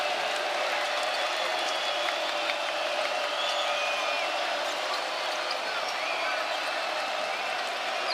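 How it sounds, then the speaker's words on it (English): Crowd at a Miami basketball game at the Watsco Center roaring continuously, a dense sustained wall of cheering with faint squeaks and thumps from the court. "Here comes the crowd again."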